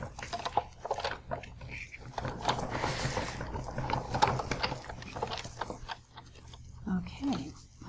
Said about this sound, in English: My big shot here, and then we run that through the machine.